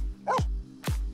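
A dog in The Sims 4 Cats & Dogs lets out two quick, loud barks about half a second apart, close and clear, with no other sounds.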